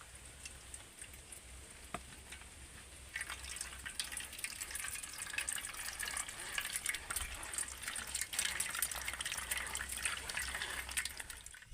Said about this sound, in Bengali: এবার জুসটাকে আমি ছাঁকনির সাহায্যে ছেঁকে নেবো